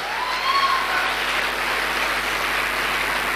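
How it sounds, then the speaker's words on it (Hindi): Steady hissing applause for a leader at a gathering, a continuous wash of clapping with no distinct beats, brief and fairly loud. "तो ऐसे लीडर के लिए जोरदार तालियां"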